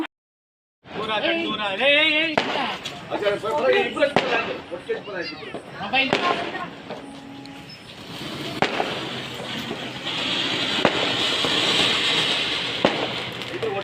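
Diwali firecrackers burst at night in a string of sharp pops and crackles, some near and some farther off, as people talk at first and then with a crackling background throughout.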